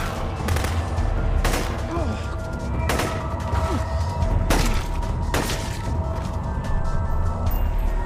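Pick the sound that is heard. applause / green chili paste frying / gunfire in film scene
gunfire in film scene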